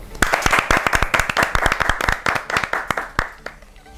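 A studio audience claps for a guest on a talk show, with distinct, fairly sparse hand claps rattling close and steady for a few seconds.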